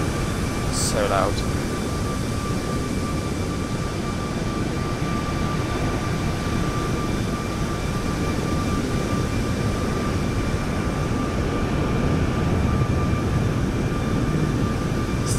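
Jet engines of a Norwegian 737 MAX in Microsoft Flight Simulator 2024, climbing after a winter takeoff from Berlin, heard as a continuous steady roar with a faint high whine and a brief chirp near the start.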